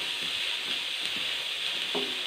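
Bitter gourd stir-fry with turmeric stirred in a pan, a constant close hiss of frying with a few soft scrapes, brief and without talk.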